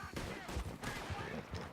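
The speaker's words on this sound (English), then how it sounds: "And the gunshot you heard" Gunfire from the Western video game Red Dead Redemption 2, a dense burst of loud, close shots and echoing reports packed into under two seconds, with no talking over it.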